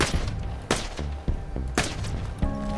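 Gunshots ring out while shooting coconuts down in a pirate-themed video game, a series of sharp loud cracks and thuds in an uneven rhythm, four or five distinct hits with brief ringing tones after.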